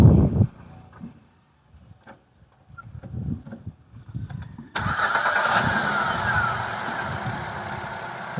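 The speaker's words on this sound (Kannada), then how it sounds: "ಸೊ ಇಂಜಿನ್ನು ಫುಲ್ಲು ಸ್ಮೂತಾಗಿ ರನ್ ಆಗ್ತಾಯಿದೆ" Second-hand car engine cranking and catching, a few quiet knocks and clicks before it fires and settles into a steady, smooth idle, close and continuous.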